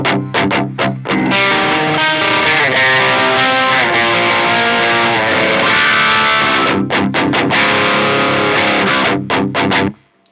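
Electric guitar played through a Lichtlaerm Audio Gehenna MKII distortion pedal in tight switch mode with all controls at noon: loud, saturated sustained chords with short choppy stabs at the start and end before cutting to silence.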